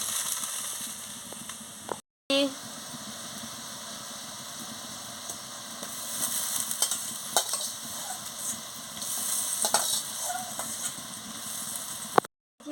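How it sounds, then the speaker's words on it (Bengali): Water poured into spice paste frying for a four-kilo katla fish sour curry, giving a steady broadband sizzle with scraping stir strokes throughout, two brief dropouts to silence near the start and end. "আমি এবার পরিমাণ মতন জলটা দিয়ে দিচ্ছি"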